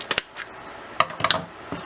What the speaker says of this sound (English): Grab the scissors.